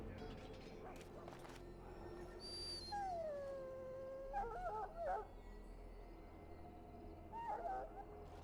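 An ailing dog in Dragon Age: Origins lets out a long, wavering howl followed by short whimpering whines, fairly quiet and set against a low background hum and game voices.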